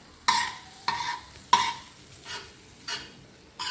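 Chopped tomatoes frying on a tawa are stirred with a spatula, several sharp scraping clacks over a soft steady sizzle, close up and without speech.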